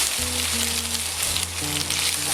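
Bell pepper sizzling in a pan alongside browning minced meat for a rice dish, a loud, close, continuous frying hiss with a steady low hum underneath and no speech.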